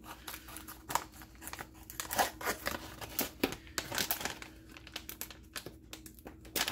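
Scissors cut open plastic packaging holding a 1911 OWB holster, giving close, crisp snips and crinkling plastic in an irregular rhythm, fairly quiet, with a few sharper cuts standing out.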